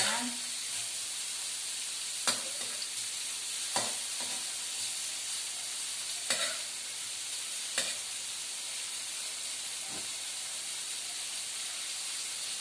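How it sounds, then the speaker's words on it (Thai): Shrimp and broccoli stir-fried in a pan, a constant bright sizzle and hiss with occasional clicks of the spatula spaced a second or two apart, and no voices over it. "ผัดไปเรื่อยๆค่ะ หอมมากเลยเพื่อนๆ"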